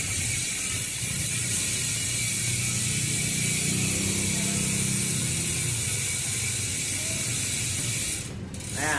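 A Speed 1 Pilot carbon bicycle hub with a six-pawl freewheel ratchet buzzes steadily as the wheel spins, a fast dense clicking held close for several seconds, ending in a brief hiss.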